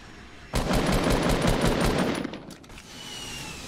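A sudden burst of rapid automatic gunfire erupts in a Fortnite match, a loud, close rattle of evenly spaced shots lasting about two seconds before fading into quieter background noise.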